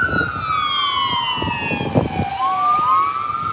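An ambulance siren wails nearby at a police arrest scene, its loud tone sweeping down and then rising again, with a few thuds and some background noise beneath.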